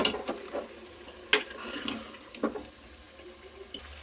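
Vegetables for undhiyu, fried root vegetables added to oily masala, are stirred in a pot with a spoon, giving a few soft scraping clatters and faint sizzling, quiet and close, with no talk.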